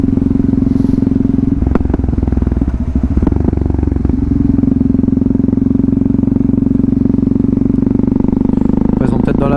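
Yamaha MT-03 660 motorcycle riding along at light throttle, a loud, steady engine drone with a low, even rumble and brief dips, recorded close on the bike with a rider speaking over it.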